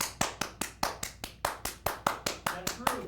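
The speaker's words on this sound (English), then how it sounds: "It's so that you don't clap in front of someone's face." A single pair of hands claps in a steady rhythm, about fourteen sharp claps in three seconds, close and fairly loud, demonstrating clapping right in front of someone's face; no one speaks over it.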